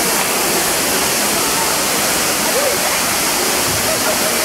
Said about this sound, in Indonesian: Di Cloud Forest ini ada air terjun yang tinggi sekali.